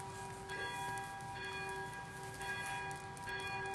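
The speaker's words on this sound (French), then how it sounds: "only bells" A bell rings steadily at a retreat gathering, sustained tones repeating over a dense, noisy background, moderately distant and with no one talking over it.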